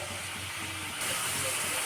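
Hot pan for fish curry hissing as water is poured in, a short steady steam hiss that swells louder halfway through.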